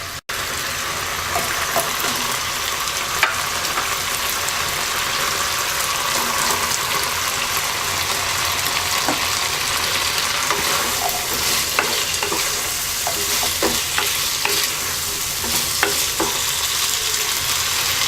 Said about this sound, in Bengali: এবার যে মশলা আছে এর মধ্যে আমরা আলু আর করলা 5 মিনিট কষিয়ে নেব।